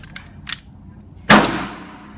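A single sharp gunshot from an S&W Bodyguard .380 pistol firing cheap PPU brass-cased ammunition, loud and close with a ringing decay, preceded by a few faint clicks.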